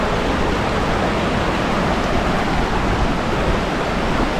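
A babbling brook in the Smoky Mountains, recorded up close: a loud, unbroken rush and gurgle of running water with no voices over it.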